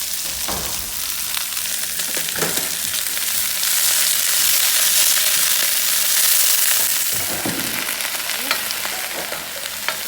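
Napa cabbage hisses and sizzles loudly in a very hot pan, a steady broadband frying roar that swells in the middle and carries occasional stirring scrapes and pops.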